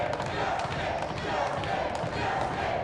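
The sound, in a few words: crowd cheering at a pool match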